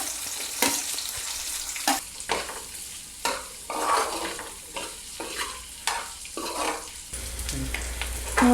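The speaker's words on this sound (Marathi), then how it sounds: "त्याच्यामध्ये आपण आता चिरलेले कांदे पण टाकून घेऊन व्यवस्थित फ्राय करून घेऊयात" Chopped onions fry and sizzle in a pan with garlic and chilies for a restaurant-style chilli paneer, with repeated bursts of stirring scrapes over a steady hiss.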